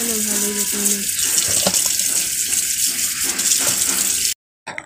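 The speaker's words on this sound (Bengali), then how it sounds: "বাজার করে নিয়ে এসে আমার শাশুড়ি মা আবার সবজিগুলো সব ধুয়ে নেয়" A water tap runs in a steady gush as vegetables are washed beneath it at an outdoor washing spot, with faint clatter over the flow, which stops abruptly near the end.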